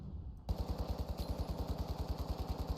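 Sustained fully automatic AK rifle fire in the video game The Finals, a rapid, even burst of close, loud shots after a brief pause, with no voice over it.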